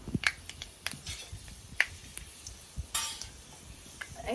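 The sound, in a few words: fennel and fenugreek seeds sizzling in hot oil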